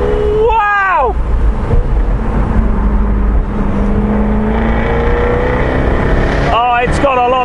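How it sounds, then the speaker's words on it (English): Engine and exhaust roar from a Jaguar Project 7 or Project 8 sports car on the move, heard from inside the cabin; a loud, continuous drone with sharp rev sweeps near the start and end, under wind noise and someone talking. "The soundtrack out the back of this car, wow!"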